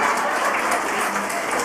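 Steady applause from a congregation at a prison ministry service in a women's correctional facility in Bandung, a continuous even burst of many hands clapping.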